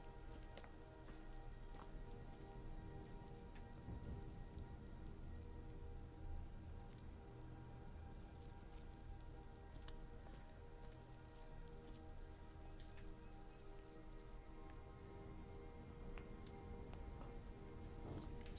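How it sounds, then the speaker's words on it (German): Steady rain falls across an outdoor mountain landscape in the video game Skyrim, a constant dense patter of drops at an even, moderate level with no talk. "Der Regen hilft nicht wirklich dabei."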